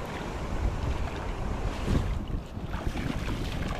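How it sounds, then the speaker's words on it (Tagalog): Strong wind blows steadily in gusts by a river, a dense rushing roar buffeting the microphone with no voices. "Ay, mahangin."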